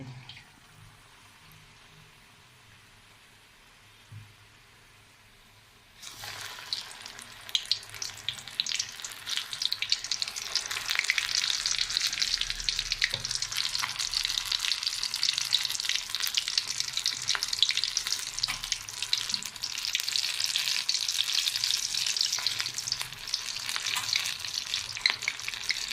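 Bajji fritters drop into hot oil after a quiet start, then a loud, crackling, continuous sizzle takes over and holds steady up close until the end.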